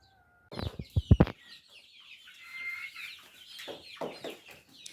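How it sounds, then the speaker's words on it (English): A rooster gives a few sharp, loud clucks up close, followed by softer, drawn-out clucking and murmuring calls. "This one is older and he's the king rooster."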